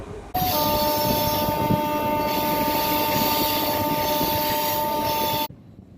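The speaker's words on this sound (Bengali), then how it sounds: "হাওড়া স্টেশন থেকে হাওড়া আমতা লোকাল ছাড়া" A Howrah–Amta local train runs on the rails with a loud, steady rumble and roar of the carriages. A sustained tonal whine rides over it, and the sound cuts off abruptly near the end.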